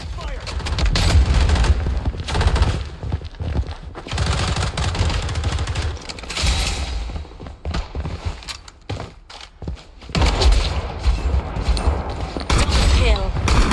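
Rapid video game gunfire from the Fallen City Brawl demo crackles in dense bursts with booming impacts, near and loud, pausing briefly before another heavy volley near the end.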